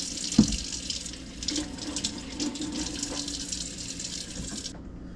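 Tap water runs steadily from a faucet into a sink while Thai chilies are scrubbed under it, a continuous close splashing hiss with a few soft knocks, stopping abruptly at the end.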